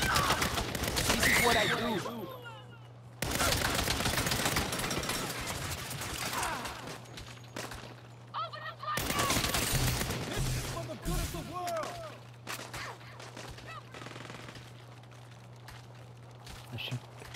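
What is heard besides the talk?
gunfire from player's gun in Saints Row video game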